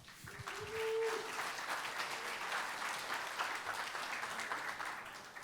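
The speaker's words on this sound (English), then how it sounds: "Let's give a big round of applause to Jon." Audience at a tech community talk applauding a speaker, a sustained, fairly soft wash of clapping heard from a distance, steady throughout with a faint voice early on.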